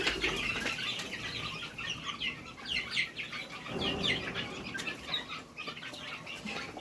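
Month-old Fayoumi chickens on a rooftop cluck and chirp in bursts, with flurries of wing flapping scattered through, fairly close and unaccompanied by talk.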